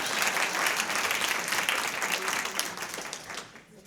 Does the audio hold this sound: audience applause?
yes